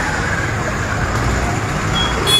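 Steady, loud road traffic rumbles at a reopened highway junction at Tehsil Chowk on National Highway 88 in Kangra, with vehicles passing continuously and a brief higher tone near the end.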